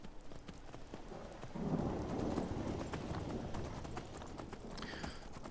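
A horse gallops in Skyrim with quick, regular hoofbeats under a faint, rainy, stormy background; the steps swell briefly, then carry on at a moderate distance.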